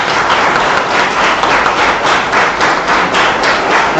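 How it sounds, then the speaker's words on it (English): A symposium audience applauding, dense steady clapping from many hands filling the room, loud and continuous throughout with no voices above it. "Give a huge round of applause for yourself."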